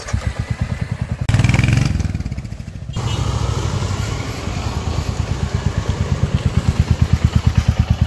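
A Royal Enfield Bullet motorcycle's exhaust thumps loud and close in a steady low-pitched beat, briefly swelling in a rev before settling back into an even, pulsing idle.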